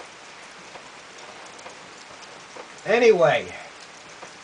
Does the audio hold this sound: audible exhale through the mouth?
no